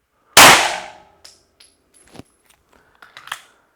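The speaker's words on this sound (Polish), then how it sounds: "oddaję ładny, celny strzał" A single sharp pistol shot cracks loudly, followed by a decaying ring and a few small metallic clicks and rattles.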